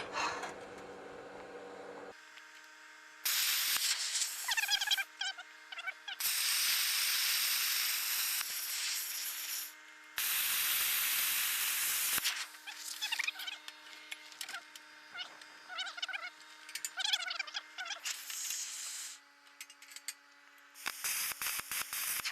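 Air plasma cutter slicing scrap metal into a circle, a loud, close, harsh hissing roar in long bursts of several seconds separated by short gaps, with faint crackle and a steady electrical whine.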